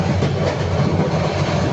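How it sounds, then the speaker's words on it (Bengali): Sundarban Express passenger train pulling out of Padma railway station, heard from on board as a steady, close rumble with rhythmic wheel clatter, with no talk. "ছেড়ে যাচ্ছে আমাদের ট্রেন"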